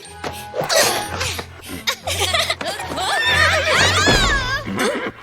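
In a Playmobil horse farm cartoon, a horse gives a loud, drawn-out neigh with wavering whinnies, mixed with snorts, a laugh-like voice and sounds of movement around it.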